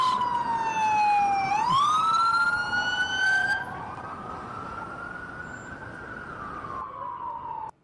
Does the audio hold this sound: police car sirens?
yes